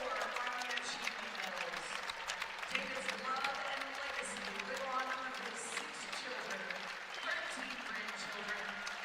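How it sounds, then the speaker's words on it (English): A crowd applauds a military honoree at a women's college wrestling dual meet in Iowa, a sustained wash of clapping from the arena stands heard under a commentator's voice. "gets a much-deserved round of applause from the crowd"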